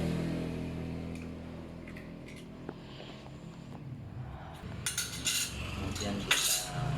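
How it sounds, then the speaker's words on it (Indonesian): Eggs and sugar are whisked in a bowl for sweet martabak batter. It starts with faint clinks and scrapes, then turns into quick, loud metallic rattles of a whisk against the bowl near the end, with no talking. "sekedar untuk mengocok telur dan gula"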